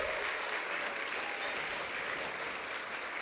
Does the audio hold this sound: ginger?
no